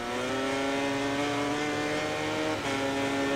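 Honda and Suzuki MotoGP race bikes scream through a continuous high-revving, steady engine drone at Silverstone in MotoGP 19, loud and close with no talk over it.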